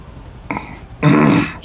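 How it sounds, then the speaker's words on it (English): A man clears his throat with a short rough rasp, then follows it with a louder, thicker guttural hack, close to the mic and on its own. "Damn, I'm trying to clear my throat"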